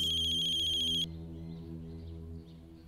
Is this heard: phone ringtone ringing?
yes